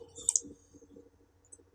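A computer mouse clicks faintly a few times during work in a spreadsheet statistics window, sharp tiny ticks over a low background hum.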